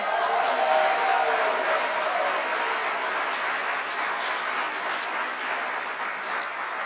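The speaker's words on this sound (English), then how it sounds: "I didn't know that was going to get the loudest applause." An audience at a disability rights conference breaks into sustained applause, a dense wash of clapping that holds steady and then tapers slightly.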